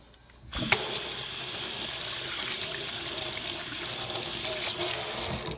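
Water runs steadily from a tap into a sink after a short quiet start, a constant close splashing rush as soap is rinsed off hands.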